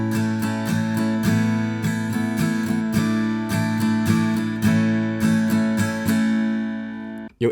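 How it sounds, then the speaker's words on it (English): Acoustic guitar strummed in a lilting 6/8 waltz pattern for a song, bright chords repeating in steady rhythmic groups, close and clear, ending with a final muted stop. "Now each one of those chord shapes is played for one strumming pattern, which sounds like this."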